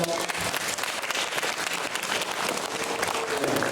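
Students at a high school admissions information session give a classmate a short round of applause, a dense, even burst of many hands clapping for a few seconds.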